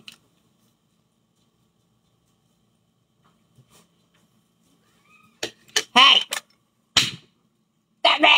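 A cat meows close by indoors, several short loud calls in a quick cluster near the end after mostly silence, with a person speaking briefly among them.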